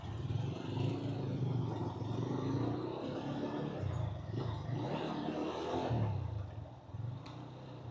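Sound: motorcycle engine braking down a steep hill

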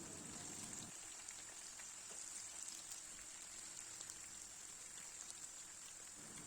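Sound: peppers frying in oil

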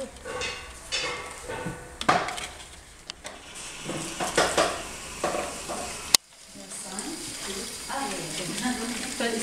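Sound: stirring food while cooking

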